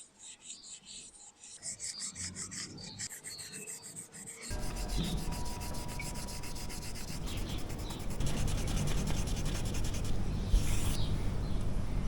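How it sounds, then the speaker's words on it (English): Continuous abrasive rubbing on the painted surfaces of a Royal Enfield Meteor 350 motorcycle to take off overspray, a steady close scrubbing rasp that begins softly and grows louder and denser after a few seconds, with no speech. "I'm just going to get on with removing overspray from stuff."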